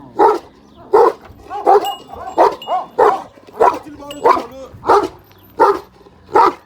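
A dog barks loudly and steadily, about ten sharp barks in an even rhythm, close by with no other sound between them.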